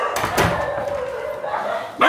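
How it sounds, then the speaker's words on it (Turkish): Dogs at a garden gate in Sri Lanka give a quick close bark or two during feeding time, followed by a lingering whine over quiet background. "Kapının önünde genelde aynı köpekler var."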